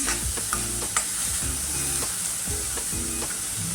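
Moth beans for a Maharashtrian-style matki usal are stirred and sautéed in hot oil in a pan, giving a steady close sizzle broken by repeated scraping strokes of the spoon, with a low tonal hum beneath.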